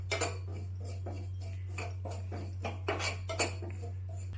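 Sesame seeds roast in a dry pan, giving a run of sharp, irregular pops and crackles close by over a low steady hum, with no talking.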